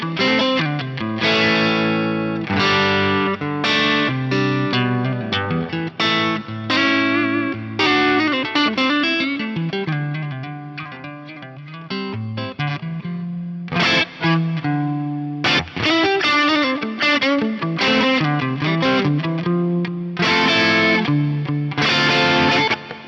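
Electric guitar played through a Fractal FM9 modeling the Brit Studio 20 amp with reverb, a loud, continuous distorted riff of chords and single notes lasting over twenty seconds, with no voices.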